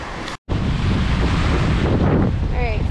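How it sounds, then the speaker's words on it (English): Ocean waves breaking onto the sand at a beach in Venice, Florida, a loud continuous roar of surf buffeted by heavy wind noise on the microphone, briefly cut out near the start. "right here as the water is breaking onto the sand right here."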